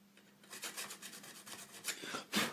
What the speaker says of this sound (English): A little bit awkward to get in there with a file, but as long as I get it smoothish